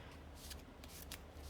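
Quiet Hindu shuffle of a deck of playing cards, heard as a few soft, papery riffling bursts close up in a still room, with no voices.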